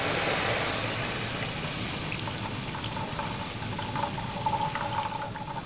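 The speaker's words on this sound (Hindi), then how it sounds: "और इसका पानी निकाल लेंगे।" Water poured off soaked whole garam masala with bay leaves while making mutton pulao: a continuous close splashing pour that trickles on with small drips.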